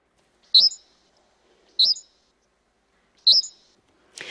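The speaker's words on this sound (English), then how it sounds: "where he records many birds and slows down their pitches to reveal what's underneath" Birdsong at natural speed: three short, bright chirps spaced about a second apart in a quiet setting, followed by a brief rustling burst at the end.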